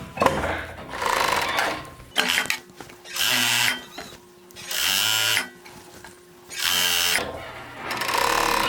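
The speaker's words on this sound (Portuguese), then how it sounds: "você pode costurar tranquilamente na sua overlock doméstica" A domestic overlock sewing machine stitches fabric in loud mechanical bursts of whirring, starting and stopping about four times with short quiet pauses between runs.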